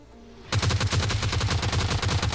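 Rapid automatic gunfire in the mobile battle-royale game PUBG Mobile Lite, a loud, sustained burst of evenly spaced shots that begins suddenly and runs without pause.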